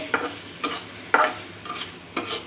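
Shrimp curry with coriander leaves is stirred in a pan, five or so distinct scraping strokes at a steady pace over a soft simmering sizzle, close and fairly loud.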